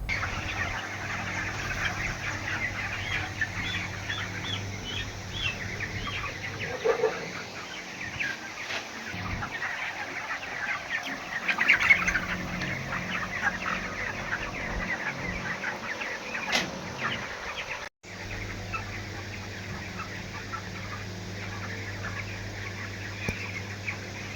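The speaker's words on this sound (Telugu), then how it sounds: "ఇది 3 కాళ్ళ కోడి." A three-legged chicken on a farm clucking repeatedly over a steady background of other fowl and faint farm noise, moderately close, running continuously with a brief break near the end, no talking.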